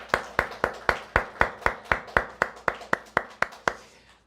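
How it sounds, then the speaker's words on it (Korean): Congregation in a Sunday church service clapping in unison, about sixteen sharp, evenly spaced claps in a steady rhythm, loud and close with nothing else heard. "우리 하나님께 영광의 박수"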